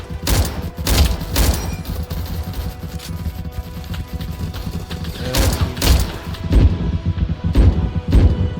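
Explosions and gunfire in the Vietnam War video game Rolling Thunder: repeated loud booms and crashes over a continuous rumble of battle, with bursts recurring every second or two.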